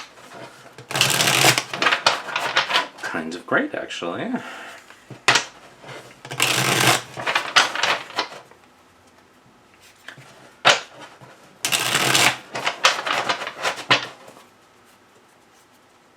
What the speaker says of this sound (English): let's see how it is to shuffle.